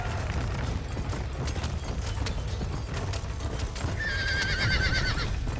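A horse gallops in Red Dead Redemption with a steady rumble of hoofbeats, then lets out a loud, clear whinny near the end, close and prominent with no speech over it.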